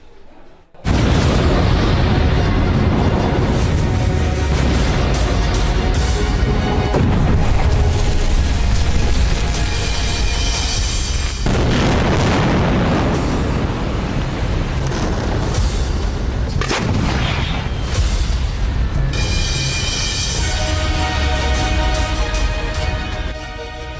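Israeli airstrikes on Gaza: loud, continuous rumbling explosions with repeated heavy booms and crackling bursts, dense and sustained throughout with no pauses.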